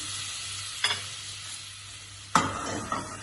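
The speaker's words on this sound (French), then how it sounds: "Et là on fouette. On fouette et on va avoir une mousse qui va apparaître." A whisk stirs a roux of 35 g room-temperature butter and 35 g flour in a pan over a soft steady sizzle, with two sharp clinks of metal against the pan.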